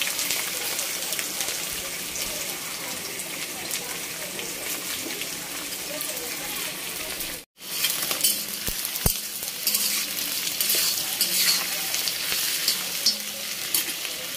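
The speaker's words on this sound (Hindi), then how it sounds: "और ये कढ़ाई तेल गरम हो गया है। अब बिरयानी के लिए ना ये बरीस्ता फ्राई कर दूंगा प्याज को।" Onions for biryani birista frying in hot oil in a kadhai make a steady, dense, rain-like sizzle that fills the whole stretch, broken by one brief gap before the crackle resumes.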